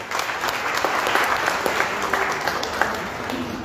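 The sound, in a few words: audience applause at a Lions Club anniversary event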